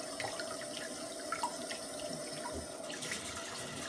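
Water runs from a tap into a bucket for washing fish, a continuous splashing gush of steady loudness with no talk over it.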